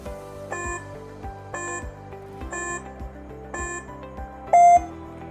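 A quiz countdown timer beeps steadily about once a second, five evenly spaced tonal beeps over a low sustained tone, ending with a brief louder final tone.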